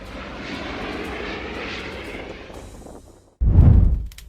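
A propeller or jet airplane drones overhead, a steady rumble that fades out, then a loud, abrupt roaring burst cuts in near the end.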